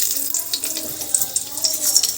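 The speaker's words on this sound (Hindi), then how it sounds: "सरसों का तेल हमारा हो चुका है गरम। तो इसमें अब डाल देंगे सूखा लाल मिर्च" Dried red chillies hit hot mustard oil in a pan for Delhi-style mutton masala, giving a loud, continuous hissing sizzle with crackly bursts throughout.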